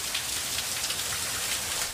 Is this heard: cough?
no